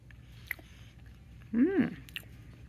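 A bite of homemade chocolate ganache cake with a bittersweet chocolate topping is chewed close to the mic in one short, soft burst, with faint clicks before it and quiet room tone around it.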